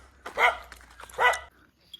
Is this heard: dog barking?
yes